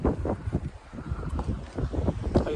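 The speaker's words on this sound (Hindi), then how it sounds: "और इस टाइम पे बहुत ही प्यारी हवा चल रही है" Gusty sea wind at a seaside fort in Muscat, Oman buffets and rumbles in uneven surges, loud and close, rising and falling in rough bursts without a break.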